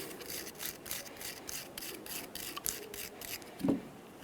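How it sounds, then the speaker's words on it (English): A wire brush scrubs with rapid rhythmic back-and-forth strokes, cleaning the boot groove of a brake caliper bracket on a 2012–2015 Honda Civic, close and fairly quiet, ending with a brief clunk. "Wire brush."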